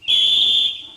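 A cartoon parrot mimics a railway guard's whistle, giving one loud, steady, shrill tone that holds for most of a second and then fades, with nothing else around it.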